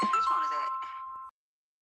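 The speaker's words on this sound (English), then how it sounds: "Whose phone is that?" A mobile phone gives a single bright notification chime that rings briefly and cuts off, heard clearly during a podcast conversation.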